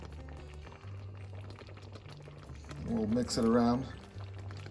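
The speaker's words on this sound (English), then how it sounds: "we're going to add our coconut milk to the red pea soup. So I'll pour that in there." Coconut milk pours from a can into a pot of Jamaican red pea soup, a soft, steady liquid trickle under a low background hum, with a person speaking briefly partway through.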